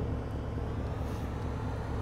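Steady low engine drone of a pickup truck driving in Farming Simulator 17, a continuous even rumble with no breaks.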